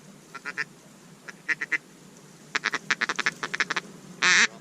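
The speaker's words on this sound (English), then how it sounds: "Those are ducks" Ducks quack during a duck hunt in quick rhythmic runs of short calls, fairly close, ending in a louder drawn-out honk.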